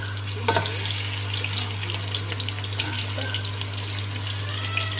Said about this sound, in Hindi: इन दोनों चीज़ों को अच्छी तरह प्याज के साथ में फ्राई कर लेंगे।